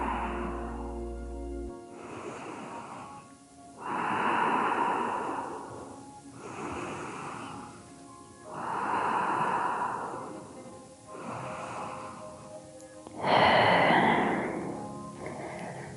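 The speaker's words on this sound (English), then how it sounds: "Sink into child's pose as we complete our short practice today. A few breaths here." Slow, deep breathing while resting in yoga child's pose during a power yoga practice: about five long, soft inhale-exhale cycles, close and unhurried, with no talking.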